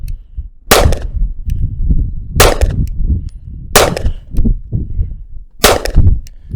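Four loud, sharp pistol shots at an outdoor shooting range, spaced irregularly about a second or two apart, with handling noise and low rumble between them.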